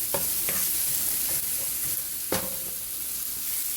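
Masala mixture with tomatoes stirred and cooking in a pan for achari paneer, a steady bright sizzle with a few spoon scrapes and knocks against the metal, close and alone.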